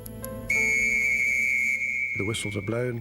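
A long, shrill trench whistle blast holds steady for over a second, then a voice starts talking.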